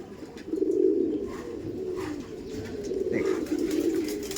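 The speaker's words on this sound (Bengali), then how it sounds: "এই দেখুন এটা দেখাচ্ছি মেল পায়রা" A male Madrasi pigeon coos in low, steady, rolling calls that swell and fade, close and clear, with faint background chirps and rustling.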